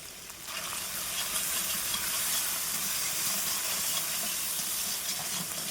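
Spice paste with salt and turmeric sizzling and frying in a pan, a steady loud hiss with bubbling crackle throughout, close up and alone.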